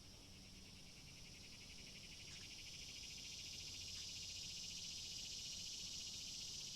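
A cicada recording plays as a continuous, high, buzzing drone that swells slightly louder over time, steady and unbroken, with no talking.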